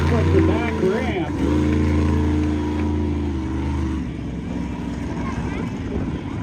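A monster truck's engine roars loudly and steadily as it tries a front-wheel stoppie off the back ramp at a 2X Monster Trucks show in Ocala, Florida, with the pitch wavering under continuous crowd and arena noise.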